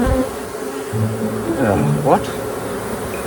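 Honeybees from a feral hive swarm close around the microphone, a dense, continuous buzz with individual bees whining past up close; one brief spoken word cuts in.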